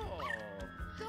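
A dog barks in Luigi's Mansion 3, a short yip-like bark with a harmonic whimpering tone, close and clear over steady game background.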